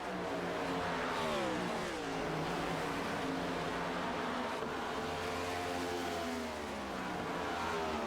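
Toyota Camry stock cars running at speed at the Brickyard, a steady loud engine roar with a rising and falling pitch as the cars race past, and no voices.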